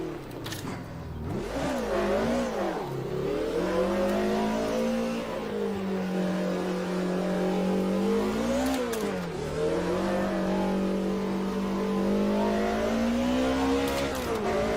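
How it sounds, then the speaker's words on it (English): A race car engine in the sim racing game Automobilista 2 roars loudly and continuously, its pitch climbing and dropping through repeated revs and gear shifts, with brief tire squeal. "This is an Automobilista 2."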